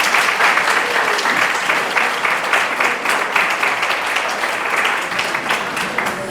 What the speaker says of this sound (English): Maybe we'll just give one more round of applause for all the students.